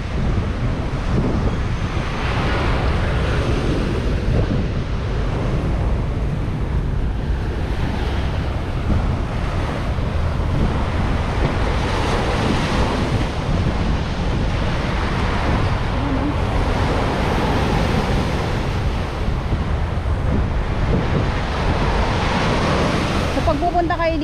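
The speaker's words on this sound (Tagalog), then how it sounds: "Pag pupunta kayo dito sa Manila Bay, ang sasalubong sa inyo ay ganito yung ano, ganito yung alon." Waves break and surge along the Manila Bay shore while strong wind rushes past, a loud, continuous wash of surf and gusts lasting over twenty seconds with only faint traces of voices.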